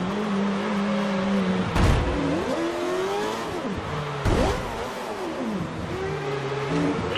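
A Formula 1 car in the F1 2013 racing game at the Singapore circuit accelerates hard, its engine note rising and shifting through gears in repeated sweeps, loud and continuous with a few sharp bursts.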